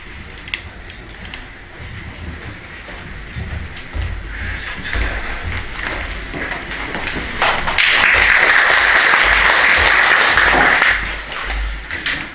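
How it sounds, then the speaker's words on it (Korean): Scattered clapping from a church congregation at an ordination service builds into fuller applause that swells louder for a few seconds near the end before tapering off. "박수 하나 드려보겠습니다"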